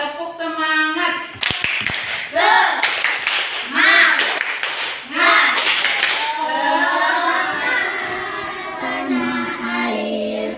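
A classroom of children doing a rhythmic Indonesian spirit-clapping routine during an Islamic religious education lesson, with patterned bursts of claps mixed with children's chanting voices, fairly close and loud.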